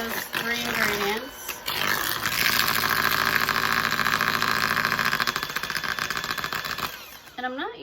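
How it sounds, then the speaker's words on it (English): A handheld electric mixer creams butter spritz cookie dough, a buzzing motor whir that rises and holds steady for several seconds, with a person talking briefly at the start and end. "I'm not using my KitchenAid just because it's easier to hold the handheld mixer."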